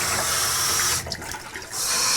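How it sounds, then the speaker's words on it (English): Steady rush of warm water pouring from a tap into a home-brewing container, continuous and close, briefly softening in the middle before returning to full flow. "I'm going to put some warm water in there"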